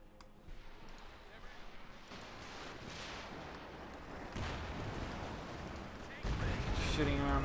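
Gunfire and battle noise around a capture point in the Company of Heroes 2 strategy game, a dense continuous rumble of shots and explosions that grows louder toward the end, with someone talking over it.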